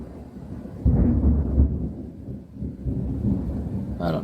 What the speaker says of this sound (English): That was good thunder. We're getting a thunderstorm now.